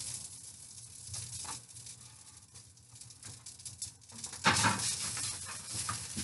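Salmon cake sizzling as it heats in a lightly oiled pan reused from earlier cooking, a steady soft crackle and hiss rising to a louder burst of frying partway through, with faint clinks of pan or utensil.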